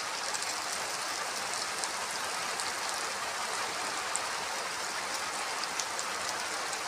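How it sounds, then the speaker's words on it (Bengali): Heavy rain falls steadily outside, a dense, even hiss of drops on surfaces that holds without a break. "বাইরে অনেক বৃষ্টি হচ্ছে বন্ধুরা।"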